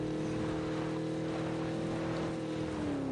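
A steady car engine drone in the video game PUBG, with a slight pitch shift near the end, continuous and fairly loud, with no voices over it.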